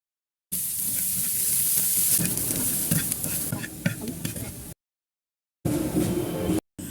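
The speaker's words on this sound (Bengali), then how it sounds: "একটা তাওয়া বসিয়ে তাতে প্রথমে কিছু শুকনা মরিচ তেলে ভাজবো।" Dried red chilies fry in oil on a tawa, a steady loud sizzle with stirring scrapes, broken by a short silence before the sizzling resumes briefly.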